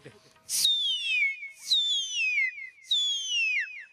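A voice imitates a whistling firecracker rocket, giving three rising-then-falling whistles, each opening with a sharp burst. They are loud, close and separated by short pauses.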